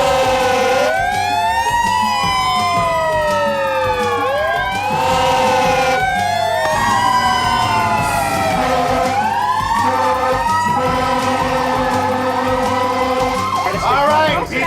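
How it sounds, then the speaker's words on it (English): Loud ambulance siren wailing close by at an industrial accident scene where people are trapped under a forklift, repeated rising and falling sweeps over background commotion. "We got an ambulance coming."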